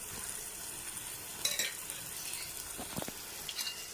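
Ginger pieces frying in oil for a mint-coriander chutney, a soft steady sizzle with a few scraping stirs and light clinks of a utensil against the pan.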